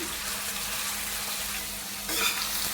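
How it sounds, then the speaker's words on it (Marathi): Soaked basmati rice with cardamom sizzles steadily as it is stirred and sautéed in hot ghee for coconut rice, a continuous close frying hiss that swells briefly near the end. "हे बासमती तांदूळ भिजत ठेवले होते ना ठीक आहे ते पण घालून घेऊया आणि चांगले ते परतून घेऊया"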